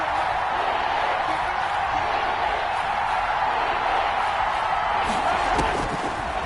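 A stadium crowd roaring in a football video game, a steady loud wall of cheering that holds throughout as a big third down approaches, with a commentator talking over it.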